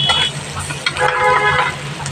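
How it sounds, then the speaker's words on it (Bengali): Spice masala stir-fried with boiled beef tripe in a pan, a loud close sizzle with scraping and stirring strokes throughout. "এই তো আমার মা এখন কষিয়ে নিচ্ছে মশলাগুলো"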